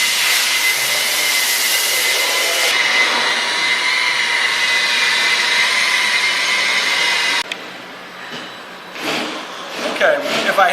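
A power polisher buffs lacquered wood with a steady, loud, airy whine for several seconds, then spins down, leaving soft rubbing and handling noises.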